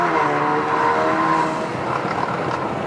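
An Alfa Romeo Giulia's turbocharged engine runs on 91 octane with added E fuel. It gives a loud, steady roar with a rising whine that eases off toward the end, heard up close.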